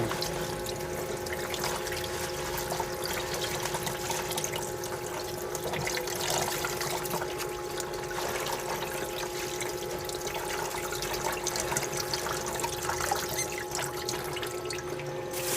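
Food being rinsed under a running tap, a steady continuous flow of water splashing and trickling close by for the whole stretch, with no talking.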